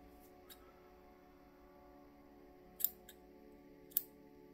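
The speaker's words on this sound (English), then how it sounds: "so I'm going to trim that, trim that." Small scissors make a few brief, crisp snips while trimming material on a crab fly at a fly-tying bench, with two clear cuts near the end over a quiet background hum.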